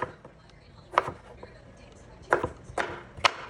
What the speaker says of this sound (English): Slicing the taters in half.